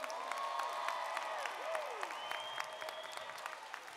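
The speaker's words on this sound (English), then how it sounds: "please give a round of applause for those that are remaining." Applause from a graduation-ceremony audience at United Palace, a dense, even wash of many hands clapping that holds for several seconds with faint voices mixed in.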